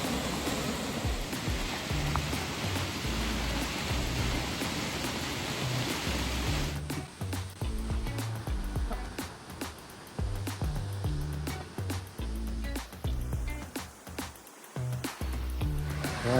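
Seven Sisters Waterfall in Sikkim roars as a steady, loud wash of falling water, continuous and broadband, with scattered clicks and thumps over the constant rush.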